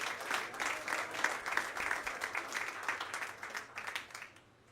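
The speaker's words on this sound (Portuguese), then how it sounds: "Aplauda ao Senhor, em nome de Jesus." A church congregation applauds at an evening service, dense steady clapping from many hands filling the room for several seconds before tapering off at the end.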